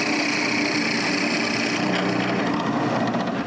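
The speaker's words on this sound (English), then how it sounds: "I drill some dowel holes." A drill bores dowel holes into the turned wooden head of a handmade nutcracker, a steady, close, gritty whir of the bit cutting wood with no voices.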